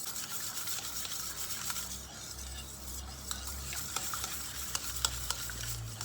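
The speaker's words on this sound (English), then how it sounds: "we are going to mix all of it" Pancake batter of milk, oil and egg is stirred in a bowl with a utensil, producing soft, continuous scraping and clinking with light taps, close and fairly quiet.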